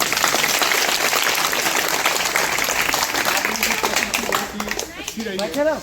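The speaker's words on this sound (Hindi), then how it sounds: "सर जी के लिए ताली बजाएं।" Audience clapping for a teacher at a school event, a dense sustained wave of applause that thins out toward the end as a voice begins speaking.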